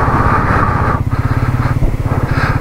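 A Royal Enfield Himalayan 450 motorcycle engine runs steadily up close with a low, throbbing rumble, the pulse easing slightly partway through, with no talking.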